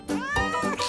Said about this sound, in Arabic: لقد رأيت قطة.